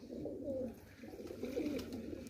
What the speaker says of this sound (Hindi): ये नीचे सारे कबूतर दाना खा रहे हैं पानी पी रहे हैं